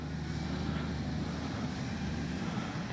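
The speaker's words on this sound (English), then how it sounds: "What a great flying warbird." An X-Fly Spitfire RC warbird model plane flies overhead with a steady, continuous propeller and engine drone that stays even and fairly distant for the whole stretch, with no talking.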